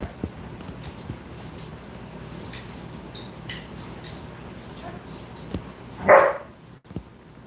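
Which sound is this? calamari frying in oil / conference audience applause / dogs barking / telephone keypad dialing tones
dogs barking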